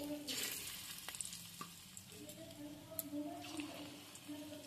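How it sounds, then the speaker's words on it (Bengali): Batter-coated bottle gourd fritters fry in hot oil in a pan: a quiet, steady sizzle with light bubbling and occasional clinks, while faint tonal sounds hover in the background. "একইভাবে বাকিটাও ভেজে নিচ্ছি"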